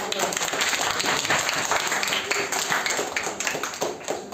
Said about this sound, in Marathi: चल हिच्यासाठी टाळ्या वाजवा